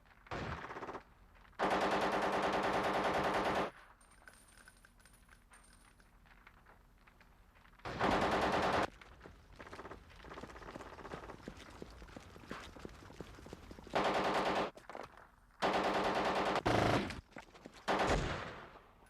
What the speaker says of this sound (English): Return fire, Alpha.